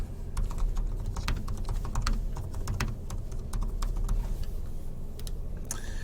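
Quick, steady keystrokes clack on a computer keyboard over a low background hum as a description is typed in, close up and continuous with no talking.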